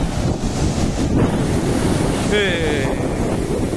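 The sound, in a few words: heavy sea waves on a rocky shore in Chabahar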